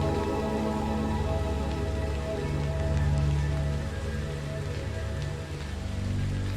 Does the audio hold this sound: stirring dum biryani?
no